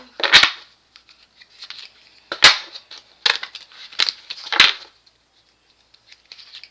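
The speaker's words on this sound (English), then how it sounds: "Let me give all of these cards a shuffle." Tarot cards being shuffled in a quiet room: several sharp, crisp riffles and slaps in uneven bursts, loudest near the start and in the middle, with soft card rustling between them and no talking.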